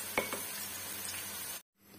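Onions browning in a frying pan for chicken kofta, a close steady hiss with a couple of light stirring knocks near the start before the sound cuts off abruptly.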